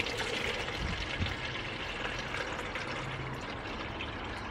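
Water poured from a jug into a container while mixing homemade strong alcoholic lemonade hooch, a steady continuous wash of liquid filling without a break.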